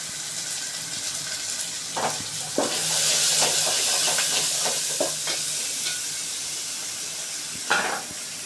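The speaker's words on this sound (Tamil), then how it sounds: "கட் பண்ணி வச்சுருக்க தக்காளியை போட்டு நல்லா வதக்கிக்கலாம்" Chopped tomatoes, curry leaves and coriander sizzle steadily in a hot pan for sambar, while a spoon stirs and scrapes the pan in several short strokes.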